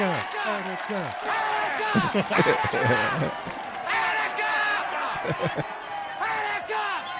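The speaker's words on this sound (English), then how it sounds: "The crowd goes nuts." A movie crowd roars and chants in a big wave of shouting voices, loud and sustained, with individual yells cutting through the din.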